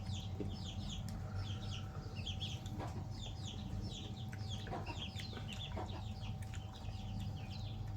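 Chickens cluck repeatedly in a farmyard setting, with several birds calling in short overlapping bursts over a steady low background hum.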